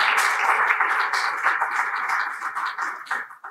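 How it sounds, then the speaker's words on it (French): An audience at a World Consumer Rights Day event applauds, a dense wash of clapping that stays fairly loud and then thins out toward the end. "vous devez les applaudir"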